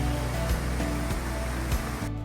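El Salto river waterfall, reduced to a thin ribbon of water, gives a steady rushing splash with soft rhythmic surges, close and fairly loud, cutting off at the end.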